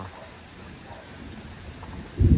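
Rain begins to patter outdoors in rural Thailand during a mushroom-foraging outing, faint and scattered at first, then a loud low thunder rumble breaks in at the end.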